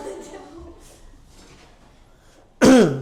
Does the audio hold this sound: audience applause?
no